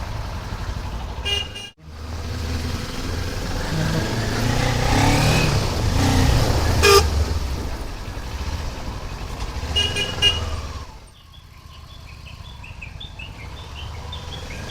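A Kawasaki Ninja 400 motorcycle pulls away on a mountain road in Ladakh between Kargil and Leh, its engine rising and revving loudly up close amid other bikes and traffic noise before fading out.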